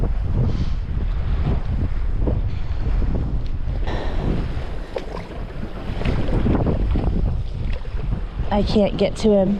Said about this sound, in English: the wind is blowing so hard in the opposite direction